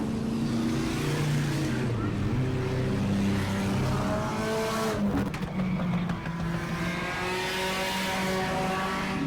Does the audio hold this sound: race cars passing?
yes